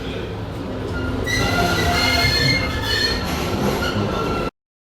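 A Boston MBTA Green Line subway train rumbles along the tracks toward North Station with a steady roar and high metallic wheel squeals, loud and close, ending abruptly.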